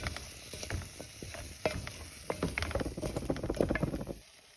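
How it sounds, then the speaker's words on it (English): Butter beans being stirred with spices in a pan, with a spoon scraping and clattering irregularly against the pan over a soft sizzle, growing busier toward the end before stopping. "I'm stirring them to ensure that they are coated with the spices."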